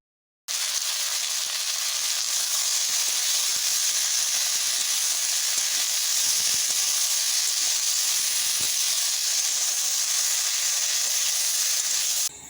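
Chopped potatoes and okra (bhindi) drop into hot mustard oil and sizzle loudly and continuously, a close, even hiss that begins after a brief silence and holds for about twelve seconds.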